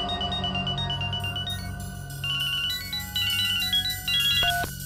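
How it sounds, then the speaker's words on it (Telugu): A phone rings repeatedly in an indoor scene during a crime drama, its electronic tone repeating in steady bursts over a constant low background hum of music, with no talking. "ఫోన్ లిఫ్ట్ చేయండి. స్పీకర్ ఫోన్ ఆన్ చేయండి."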